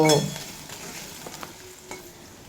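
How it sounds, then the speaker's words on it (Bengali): Potato pieces fry over low to medium flame in a pan, opening with a clanging knock of metal, then settling into a soft, even sizzle with a few light stirring clicks and no speech. "এই আলু আমি লো টু মিডিয়াম ফ্লেমে রেখে 3 মিনিট মতো ভেজে নেব"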